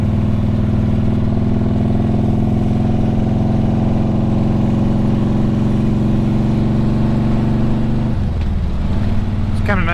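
A motorcycle with a new compensator spring pack rides along a rustic country road, its engine a loud, steady close-up drone that shifts pitch near the end as it changes speed.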